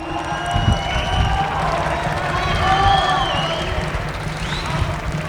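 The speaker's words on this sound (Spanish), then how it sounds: "Por favor, un aplauso para Citlali" An audience claps and cheers for a guest at a Spanish-language political talk event, with the sound of the crowd steady throughout and lively voices and shouts mixed in over it.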